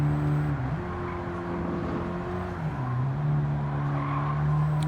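An Abarth 500 hatchback in Gran Turismo 7 on the Nürburgring holds a steady, loud engine drone that dips and rises with gear changes, along with faint tyre noise, and no one speaks.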